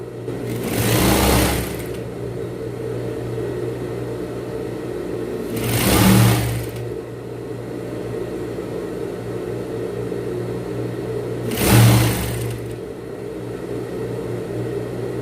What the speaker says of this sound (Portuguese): E aí faço aqui essa costura em todo esse contorno.